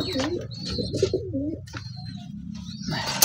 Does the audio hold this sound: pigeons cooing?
yes